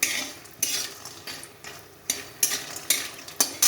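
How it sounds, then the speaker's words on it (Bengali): Bori lentil dumplings frying in hot oil in a home kitchen, a soft steady sizzle broken by repeated sharp scrapes and clinks of a metal spatula stirring the pan, close and fairly quiet. "বড়িটা ভেজে নিচ্ছি"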